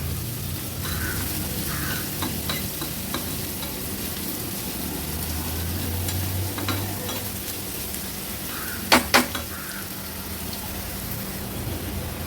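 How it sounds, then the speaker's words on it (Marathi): One medium onion sizzles in hot tempering oil in a pan, a steady close crackle and hiss with scattered pops and a couple of sharp clanks from a utensil. "तेल पण छान गरम झालं आहे आता मीडियम साईजचा एक कांदा आपण फोडणीला घातला आहे"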